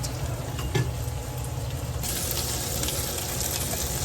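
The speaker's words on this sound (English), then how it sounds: "As that chicken cooks, it really smells good." Chicken sizzles steadily in a hot pan, a constant near crackle that grows slightly brighter halfway through, with a faint watery trickle and one soft knock early on.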